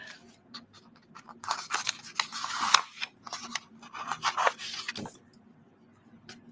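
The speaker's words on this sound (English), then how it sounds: "It's very satisfying to pull tape off a masking tape roll." Masking tape, an industrial-grade tape, peeled off its roll in several quick rasping pulls, close and fairly quiet, with short pauses between strips.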